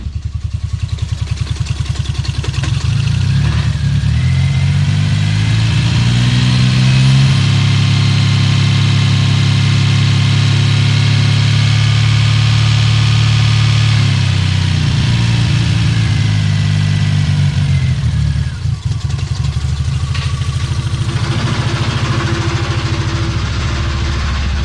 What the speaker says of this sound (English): Much lower idle. This is what I was expecting.